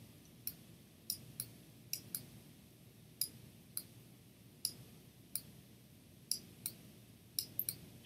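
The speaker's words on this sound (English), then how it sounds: "For those of you that can hear the clicking in the background, yes, I am editing with the mouse right now." Computer mouse clicks sound sharply and sparsely while someone edits in Photoshop, a dozen or so quiet, close, irregularly spaced taps over a faint room hum.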